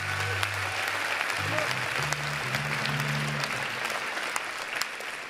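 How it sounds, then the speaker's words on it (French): Graduation ceremony guests break into steady, dense applause, with a low voice murmuring under the clapping early on. "Je pense que ça s'applaudit."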